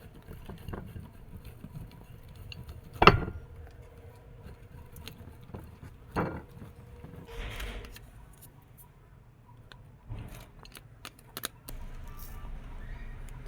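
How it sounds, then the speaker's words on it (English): A bar of soap being sliced with a knife to portion it for homemade toilet freshener, heard as two or three sharp, close knocks against a surface with faint scraping and handling in between, over a quiet room. "I'll cut the portion that I want to use for my toilet freshener."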